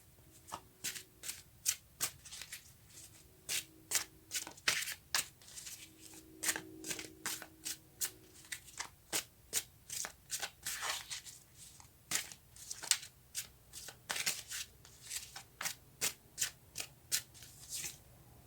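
Tarot cards are shuffled steadily, with repeated crisp riffling bursts in a regular rhythm close to the listener, each flurry of flicking paper separated by short pauses, with no talking.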